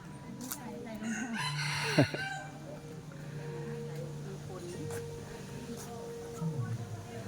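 A rooster crows at a Thai forest temple on a mountainside, a short call fairly near amid outdoor ambience, while an adult and someone talk throughout.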